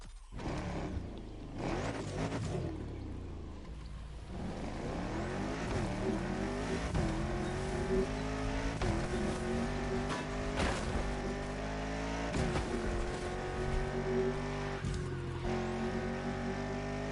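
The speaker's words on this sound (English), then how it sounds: "now we'll be driving das Porsche." Porsche engine in a racing video game: a loud, sustained motor climbing through the revs with repeated gear shifts, each shift dropping the pitch before it rises again, running continuously without talk.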